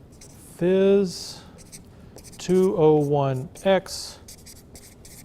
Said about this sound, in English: So I'm just going to write something, and that'll be our object.